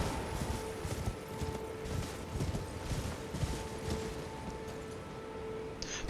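Torrent, the spectral horse in Elden Ring, gallops with a steady, rapid clip-clop of hooves, evenly paced and moderately loud over a continuous game ambience.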